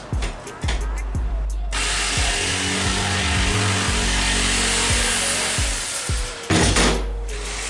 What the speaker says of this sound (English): Now it's time to cut it out with the jigsaw.